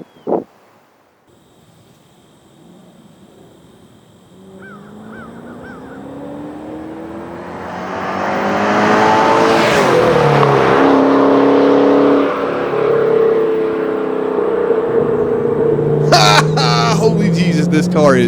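A 2010 Ford Mustang GT500 accelerates hard, its engine note climbing through the gears with rising whine and roar close to the microphone, after a brief thump at the start and wind rush near the end.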